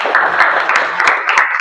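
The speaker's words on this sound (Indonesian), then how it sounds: "Tepuk tangan untuk Aisyah." Classmates clap for a student in a school lesson, a short burst of close, sparse applause with individual hand claps standing out.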